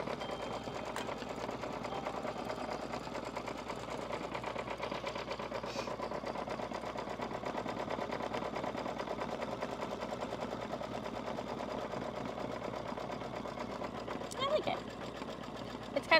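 A sewing machine runs steadily through quilting work, giving a continuous, even mechanical whir with a few sharp clicks near the end, while voices seem to talk quietly underneath.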